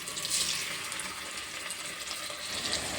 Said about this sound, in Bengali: সব মাংসগুলোকে আমি তেলের মধ্যে দিয়ে দিচ্ছি